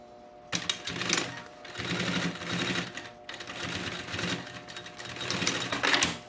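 A sewing machine stitches a seam on a fabric lunchbox panel, giving close, rapid mechanical chattering in several bursts with short pauses between runs.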